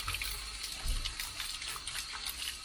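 Tap water running through a 1990 Range Rover heater matrix, a steady broadband hiss and splash of flowing water, continuous and fairly close, with no talk.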